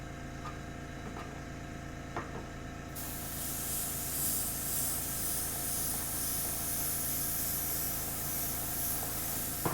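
Quiet room hum with a few faint ticks, then an airbrush starts spraying paint over Warhammer terrain, a steady close hiss that continues to the end.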